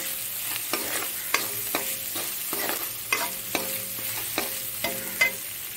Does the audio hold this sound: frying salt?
yes